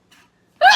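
A single sneeze bursts out sharply and up close at the end, preceded by a faint quick breath, during a casual conversation between a couple.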